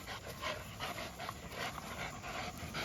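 A dog pants in quick, rhythmic breaths, close and fairly soft, with a faint whimper and steady low background noise beneath.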